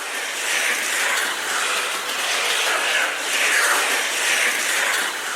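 Screeching calls of birds living deep inside a cave, a harsh, continuous hissing shriek with pulsing swells in loudness that carries on steadily without a break.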